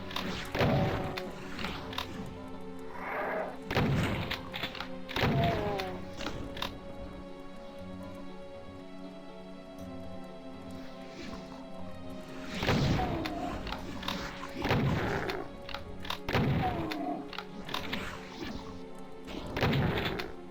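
Rocket launcher blasts in the Doom map Apostasy: repeated loud, booming explosions land every second or two over a droning in-game music track, some in quick pairs, with crashing impacts and no talking.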